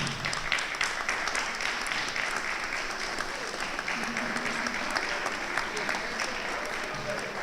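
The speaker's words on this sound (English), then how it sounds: "stand up, graduates, and give them a round of applause" Graduates at an awards night and graduation ceremony stand and applaud their families and friends. Sustained, even crowd clapping continues throughout, with faint voices underneath.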